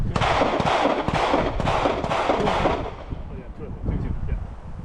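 Handgun shots ring out at a shooting range during a concealed-carry drill in Hawaii, a dense run of sharp overlapping cracks that are loud and near for a few seconds before thinning into scattered quieter reports.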